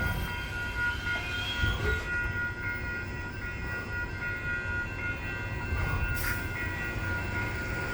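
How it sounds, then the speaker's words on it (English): An LA light rail train rolls steadily into a Santa Monica street-level station, a continuous low rumble with wheel and track noise and a brief brighter squeal, heard at moderate distance with no talk. "There's another train coming."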